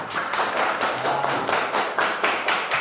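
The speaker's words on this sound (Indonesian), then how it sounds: "tepuk tangan dulu teman-teman" Children clapping their hands together in a classroom during a prayer-practice lesson, a steady run of overlapping claps carrying through the whole stretch at fairly even loudness.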